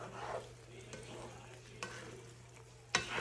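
A spoon stirring chicken brown stew in a pot, making a soft bubbling simmer with occasional scrapes and a sharper knock of the spoon near the end, quiet and close.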